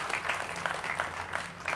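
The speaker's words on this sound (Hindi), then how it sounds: "जोरदार तालियों की गड़गड़ाहट से स्वागत" Clapping from an audience at a martyr's memorial gathering in India, greeting veteran army officers: continuous, fairly soft applause with scattered sharper claps throughout and no speech.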